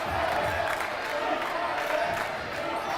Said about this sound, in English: Frisch crowd finally into it. First time today, everyone on their feet.